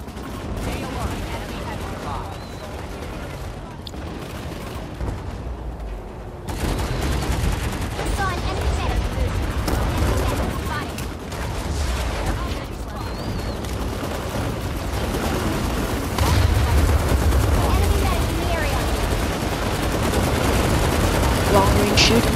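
Gunfire in the video game Planetside 2 during a long-range fight, with dense, continuous bursts of shots and booms filling the mix throughout at a steady, loud level.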